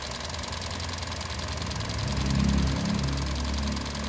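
A Kia Carens engine running in a workshop during fault diagnosis, a steady idle rumble that swells into a brief rev near the middle and then eases back, heard close with no talk.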